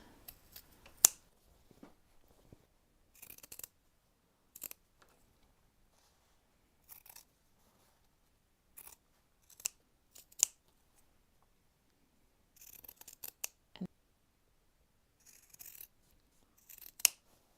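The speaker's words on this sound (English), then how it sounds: "And then you trim just the facing." Scissors trim the fabric facing of a sewn hem in a quiet room, giving sparse, crisp snips and short clusters of cuts scattered across the stretch, close and fairly soft.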